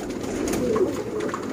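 A pure Sialkoti pigeon gives a short, close coo, a soft throaty murmur over quiet surroundings.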